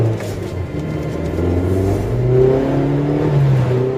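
A Mazda MX-5 engine revs steadily from inside the cabin, a continuous mid-pitched drone rising and falling in pitch through several climbs, with no voices.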